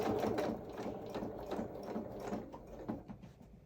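Domestic sewing machine stitching the sleeve seam of a small doll's coverall, a steady mechanical whirr of the needle running continuously and close, easing slightly toward the end, with no talking.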